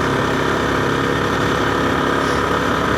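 A Yamaha TZR 250R two-stroke motorcycle engine running, a loud, dense and steady buzzing drone with constant vibration throughout, no voices.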